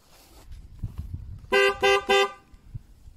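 A car horn is tested after its fuse was swapped back in: three loud, steady honks in quick succession stand out against faint workshop noise and a few soft knocks.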